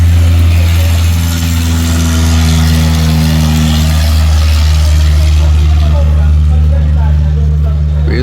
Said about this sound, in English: There goes another 182 flight.